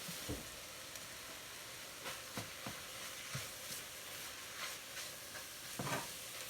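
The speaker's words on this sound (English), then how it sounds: "So the chopped meat is browning quickly because there's very little fat" Lean ground turkey browns and is stirred in a pan for turkey chili, giving a soft sizzle with scattered scraping stir strokes, fairly quiet and steady throughout.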